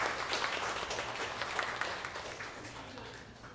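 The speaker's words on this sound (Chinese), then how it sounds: "然后我们来拍手欢迎她。" A church congregation at a Sunday Taiwanese-language service claps to welcome a newcomer: dense, continuous applause from many hands, fairly close and steady, slowly fading toward the end.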